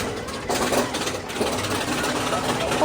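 Avalanche, an older bobsled-style roller coaster at Blackpool Pleasure Beach, gives off a steady, loud, broadband rumble and roar that holds without a break, with a faint voice in the background.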